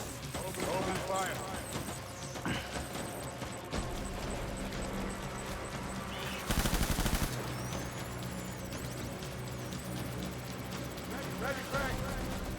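BB guns firing in rapid bursts, mostly a sustained rattle of shots with one louder dense volley in the middle, while people talk over it.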